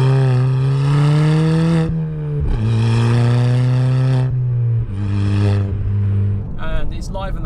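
A Ford Fiesta ST Mk7.5 fitted with a Milltek turbo-back exhaust accelerating hard through several gears, each loud rising engine pull ending in a shift, with a burst of exhaust crackle at the finish.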